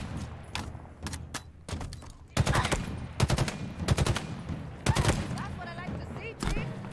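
Sniper and other gunfire ring out during a Halo Infinite campaign battle on Legendary. Sharp shots arrive in rapid clusters and bursts, some close and loud, over a low background of game noise.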